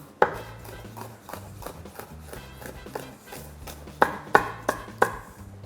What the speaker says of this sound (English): Nice sharp knife, yeah? Just cutting through that. And then just chop them in half again.